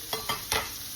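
Onions and carrots sauté in a big skillet, giving a steady sizzle broken by three quick stirring scrapes, close and fairly loud with no talking.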